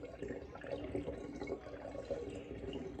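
Liquid pouring through a funnel while making Christmas wine, a close, bubbling gurgle with splashy trickling that runs continuously at moderate volume.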